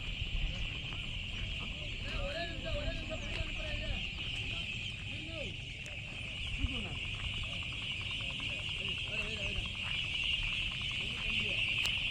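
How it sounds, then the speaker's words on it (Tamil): Many ducks at a duck farm quack and cluck in a noisy flock under a constant high buzz, while a voice talks intermittently. "இப்போ நம்ம வந்திருக்க இடம் வாத்து வளர்க்குற இடங்க"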